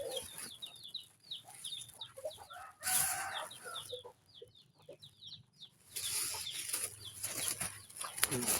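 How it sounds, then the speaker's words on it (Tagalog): Barnyard chickens including a white hen and a rooster cluck steadily throughout, with bursts of crowing and squawks; busier, louder stretches around the third and sixth seconds, fainter chirps behind. "Manok na puti guys."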